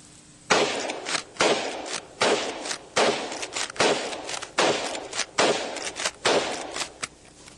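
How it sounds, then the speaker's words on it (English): A lever-action rifle fired in a rapid string of about nine loud, sharp shots at a steady rhythm, each with a short tail, close and with no talk. "I'll show you what it will do, although I'm not an expert with the lever action like old Chuck Connors is."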